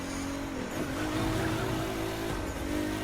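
Forsberg Racing Nissan 370Z street race car in The Crew 2, engine roaring steadily at high revs with tire squeal and skidding through a tunnel, loud and close throughout.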